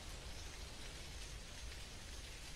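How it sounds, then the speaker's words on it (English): Steady rain falling in the video game Dinkum, a soft continuous hiss of drops on surfaces at low volume with no voices. "That's so funny that it's raining now."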